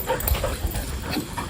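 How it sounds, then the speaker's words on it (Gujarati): A playful dog whimpers and yips in short, soft bursts at close range over a noisy, rustling background. "આ જોજો આ કૂતરું કેટલી મસ્તી કાઢે"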